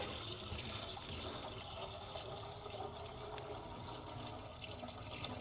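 Liquid is poured by hand into the filler of an International C1800 truck that has sat unused for decades, making a soft, steady trickling wash at low level.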